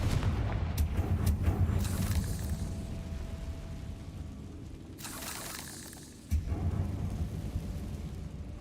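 Fiery Confringo spell blasts in Hogwarts Legacy, a few sharp bursts early on, then a long rumbling roar and a second crack after a lull, heavy and booming.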